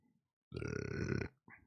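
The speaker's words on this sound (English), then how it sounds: "I blatantly burped out loud" A single long, loud, close burp from a man, croaky and sustained, followed by a brief low vocal sound after a short pause.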